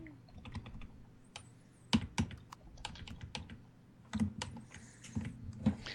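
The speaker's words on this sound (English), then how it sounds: "I keep having to look down at the keyboard to see which button I'm hitting" Typing on a computer keyboard while building a spaceship in a game, close irregular key clacks in uneven bursts with a few louder heavier presses, no talking.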